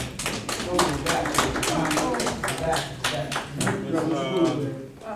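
Applause from an audience at a school district receiver's board meeting, dense steady clapping lasting several seconds with voices and cheers mixed in.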